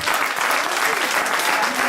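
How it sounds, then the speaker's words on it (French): A crowd at a country music festival in Montréal du Gers gives a thunderous round of applause for a man named Max, a dense, continuous roar of clapping that stays loud and even throughout. "moi je voudrais que vous fassiez un tonnerre d'applaudissements à Max, son cher et tendre époux"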